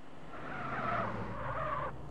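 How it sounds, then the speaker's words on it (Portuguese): A car drifts in GTA San Andreas on PS2, its tires squealing in a sustained, wavering skid for nearly two seconds over a low engine rumble before cutting off abruptly. "Ok, um drift."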